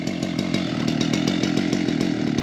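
A chainsaw cuts through a willow log for firewood, the engine snarling loud and close in a steady, slightly pulsing drone without a break.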